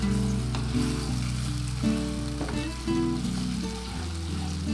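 Bruised galangal, bay leaves and lime leaves sizzle in hot oil in a pan for cassava leaf gulai, a steady close crackling hiss with occasional soft stirring scrapes.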